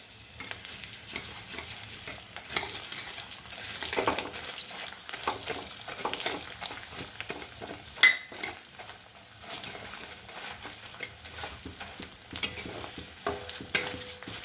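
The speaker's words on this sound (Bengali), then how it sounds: "এবার আমি দেখো গোবিন্দভোগ চাল তেলের মধ্যে দিয়ে দেবো" Gobindobhog rice grains frying in oil with bay leaves and green chilies, a soft crackling sizzle with stirring scrapes and occasional spoon-on-pan clinks, close and moderately quiet throughout.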